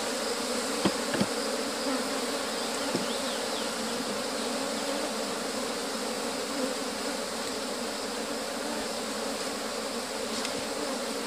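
A mass of agitated, defensive honeybees buzzes around an opened hive in an apiary, a thick steady drone of many wings with occasional louder bees flitting close by, no talk.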